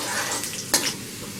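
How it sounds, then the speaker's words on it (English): Sliced garlic sizzles in hot oil in a large kadai while being stirred, a steady frying hiss with a brief scrape of the spoon against the pan partway through. "I am heating a large kadai with some oil. Once the oil is heated, add in the sliced garlic."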